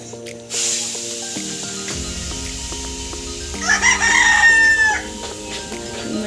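A rooster crows in the early morning at a rural home in Nepal, one loud drawn-out call nearby over steady background tones.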